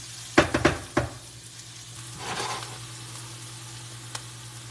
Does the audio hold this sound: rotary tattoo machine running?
no